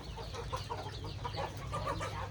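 Chickens kept alongside ducks on a rural farm cluck in a steady scattered chorus, with low background rumble throughout and no talking.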